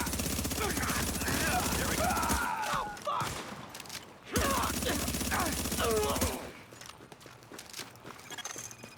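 Sustained automatic gunfire in a video game, dense rattling volleys in two long bursts with a short gap between, heard under a voice talking over it.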